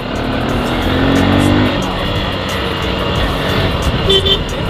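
A BMW G310RR motorcycle out on a ride, with a loud, steady engine drone and wind rush throughout and a slight rise and fall in pitch; no clear talking.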